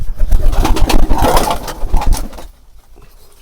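Pigeons on a pigeon farm coo in low, throaty rolls close by, several birds overlapping for a few seconds before it goes suddenly quieter.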